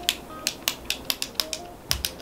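A twist-up NYX Super Cliquey makeup pencil gives off a steady run of small, sharp plastic clicks about every quarter second, close and fairly quiet, with no voice over it.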